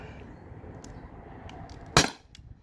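A single sharp crack from a Beeman 13-joule air pistol firing through a chronograph, one loud close shot over a steady low room hum, with a short decaying tail.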